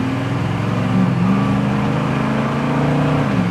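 A 1974 Pontiac Firebird Formula accelerates hard on kickdown, its engine a loud, steady droning roar heard close from inside, with a brief pitch shift early on as it downshifts and pulls.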